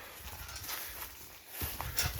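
Draft horse hooves clip-clop on the ground close by in a few uneven steps, heard briefly during farm work with mares.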